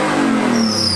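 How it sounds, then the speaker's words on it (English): A BMW engine fitted with DTM exhaust pipes revs loudly and close by, one sustained roaring burst with a rising pitch, on a car that had sat unused for five years. "Go on, give it a rev for us. I want to see you rev it up."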